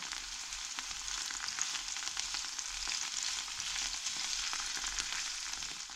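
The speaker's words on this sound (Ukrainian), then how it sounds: "Червоний мухомор смажу суміші вершкового масла та олії" Steady, dense sizzling of red fly agaric mushrooms frying in butter and oil, a continuous crackle with small pops, close and fairly loud, no voices.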